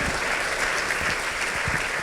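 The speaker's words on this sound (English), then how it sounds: "please give a big round of applause for the team here" A conference audience gives steady, dense applause to the team, loud and continuous throughout with no speech over it.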